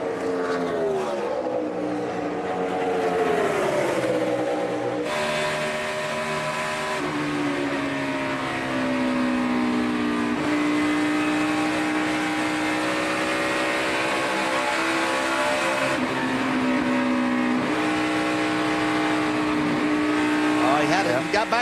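NASCAR stock cars race at the Brickyard 400 at Indianapolis, their engines roaring loud and steady with pitch rising and falling as they pass and shift through a corner, while race commentators talk over them.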